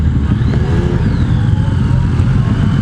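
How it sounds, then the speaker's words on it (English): A motorcycle engine at an outdoor show revs up as the clutch is let out, a loud, close rumble with a rising whine that holds steady with no pause. "this thing revs for you when you release the clutch, so it doesn't stall"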